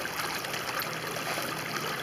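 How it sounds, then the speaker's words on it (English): A small outdoor stream of running water, a steady close babbling rush with no pauses and no voices. "I like the sound of running water."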